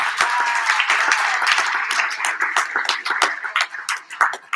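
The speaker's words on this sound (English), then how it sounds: "You guys give this another big round of applause to Coach Greene" Hall of fame banquet guests applaud for Coach Greene, a close crowd of clapping hands that starts full and gradually thins into sparser, distinct claps as it tapers off.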